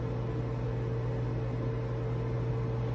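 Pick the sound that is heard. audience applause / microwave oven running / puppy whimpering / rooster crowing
microwave oven running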